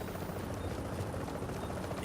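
Extraction helicopter in the shooter game The Division, its rotor thumping loud and continuous, a dense throbbing roar filling the whole moment with no talk.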